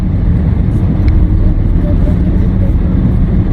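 A car engine runs steadily and loudly throughout, a dense low rumble with no breaks, as from inside a moving vehicle.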